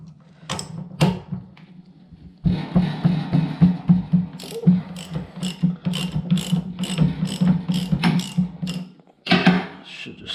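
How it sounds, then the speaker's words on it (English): A hand ratchet with a 7/16 12-point socket clicks rapidly in repeated bursts while working on a mower, with short pauses between strokes, close and clear. "So this is a 7/16 12-point socket, fits right on this just fine."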